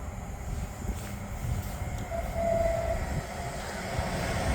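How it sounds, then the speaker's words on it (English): Class 730 North Western Railway train, a pair of units, rolling into a station with a steady low rumble, a brief horn or whistle tone rising midway, moderately close. "arriving now is a 1500 on North Western Railway service from Milton Keynes Central to London Euston, formed of a pair of 730s"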